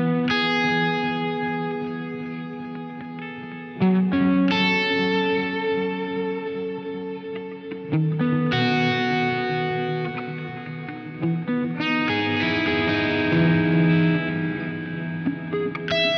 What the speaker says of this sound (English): I'm gonna use a bias effects preset that I've made already, and it's one that's got a lot of echo